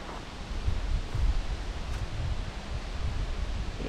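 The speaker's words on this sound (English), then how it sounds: "It's very windy today." Steady wind buffets the microphone, with low rumbling gusts and a broad rushing hiss throughout.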